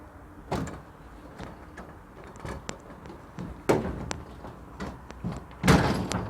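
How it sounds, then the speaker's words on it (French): A worn PM300 electrical enclosure cover being opened, giving several clunks and clatters, with a louder knock near the middle and a sharp bang near the end, close by with no talk. "Ok, j'ai ouvert le PM."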